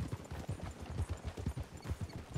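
Horse hooves clip-clop at a steady walking rhythm in Red Dead Redemption II, the stallion and mare close and clear with no talk over them.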